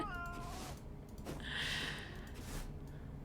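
A cat meows in a cat-finding video game, a couple of distinct mid-volume meows over steady game background sound, with no talk.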